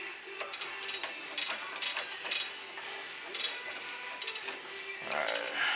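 A puller tightening on the power steering pump pulley of a Crown Vic, a string of close mechanical clicks and ratcheting bursts at irregular intervals over a quiet background, ending in a short grinding scrape.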